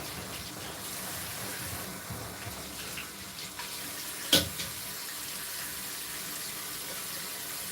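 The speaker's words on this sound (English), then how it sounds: "And I'm washing my hands with natural alcohol" A tap runs steadily while hands are washed at a sink, a constant close water rush with one brief louder splash or clatter midway.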